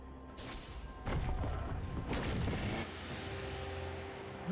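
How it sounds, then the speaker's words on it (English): In League of Legends, a turret collapses with a sequence of heavy booms and crashing thuds, two big impacts about a second apart, followed by lingering rumble amid game effects. "Red team's turret has been destroyed."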